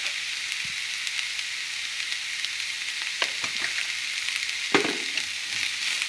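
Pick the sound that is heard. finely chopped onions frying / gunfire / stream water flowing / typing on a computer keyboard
finely chopped onions frying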